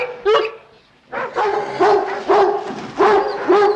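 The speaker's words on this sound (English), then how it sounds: "Looks to me like you got yourself a mad dog on your hands." A mad dog barks repeatedly, loud and close, with sharp yelping barks in quick succession after a single opening bark and a brief pause.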